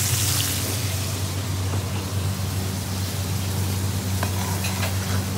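Chicken for a restaurant-style garlic chilli dish fries in a pan with a dense, continuous sizzle and crackle, close and steady throughout over a low kitchen hum.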